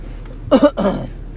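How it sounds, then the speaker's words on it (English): A short, close, throaty cough in two quick bursts, loud against a quiet background. "Excuse me for the cough"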